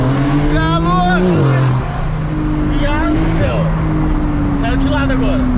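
A Porsche 992 sports car engine driving, its revs climbing and dropping through gear changes in a smooth rising drone heard from inside the cabin, loud and close under lively conversation.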